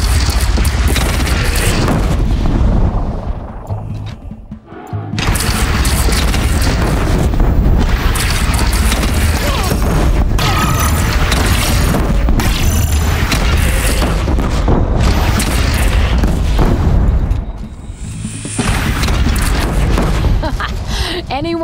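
Loud cannon blasts and explosions in a bandit clan battle from the video game Horizon Zero Dawn, heavy booms and bursts repeating over about twenty seconds amid battle noise and shouted voices.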